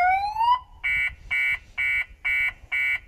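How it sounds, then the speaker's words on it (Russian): A car alarm goes off after a window is smashed: a rising electronic whoop gives way to five evenly spaced loud buzzing honks, alone and close. "разбил стекло, и тут сработала сигнализация"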